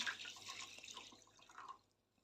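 Water splashes and trickles into a mixer jar holding ground tomato for about two seconds, close and moderately loud, then fades out.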